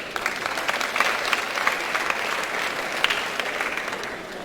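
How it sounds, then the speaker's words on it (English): An audience at a university orientation for fresh students claps steadily for a few seconds, a moderately loud, even round of applause with scattered sharper claps and no talk. "Another round of applause."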